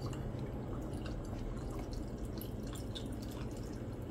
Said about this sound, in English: we're just gonna pour the rum in